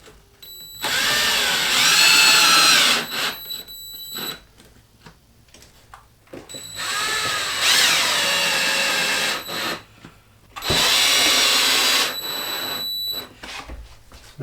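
A power drill drives screws into a recessed metal bathroom cabinet in three loud whirring bursts of about two seconds each, separated by quiet pauses with small handling clicks.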